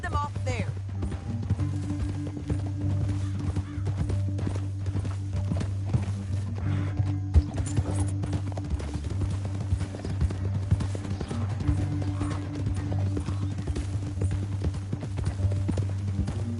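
Steady clip-clop of horse hooves at a walking pace in Red Dead Redemption 2 runs throughout, with a constant low hum beneath and voices talking over it.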